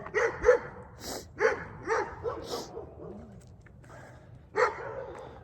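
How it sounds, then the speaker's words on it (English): Several dogs bark in short, uneven bursts with some yips and whimpers. They sound moderately distant and are fairly quiet, with a faint murmur of talk underneath. "Sorry for the dogs."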